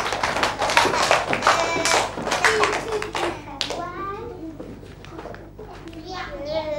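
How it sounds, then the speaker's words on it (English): A classroom of young pupils clapping for a classmate, a burst of rapid, uneven hand claps mixed with children's excited voices, close and lively, fading into chatter. "Class, give him a big clap."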